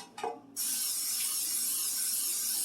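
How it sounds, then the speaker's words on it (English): A short tap, then a steady, close hiss of aerosol cooking spray coating a pan, continuing unbroken to the end. "spray your pan very well."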